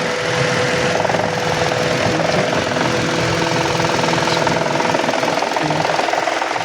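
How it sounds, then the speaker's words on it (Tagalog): A 2013 Mitsubishi Mirage engine runs with its AC compressor switched on, giving a loud, steady idle hum with a constant whine and rapid mechanical knocking throughout. "Nag-on ang ating compressor."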